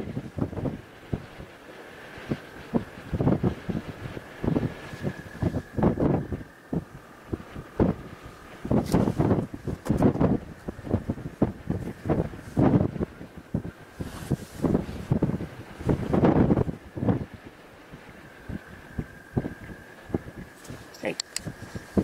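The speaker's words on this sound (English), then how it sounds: "Wind isn't helping either." Wind buffets an outdoor microphone during a birding live stream, with low rumbling gusts that swell and fade irregularly. Someone talks over it now and then.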